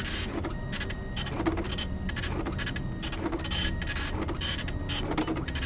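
A printer prints flyers in Freddy Fazbear's Pizzeria Simulator, a loud mechanical whirring and scraping that rises and falls in regular passes about every second, continuing alone without talking.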